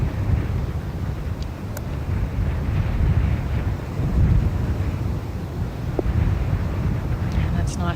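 Gusty breeze buffets the microphone on a golf course at the Ladies Scottish Open, a steady low rumbling wind noise throughout with a couple of faint brief clicks and no clear talk.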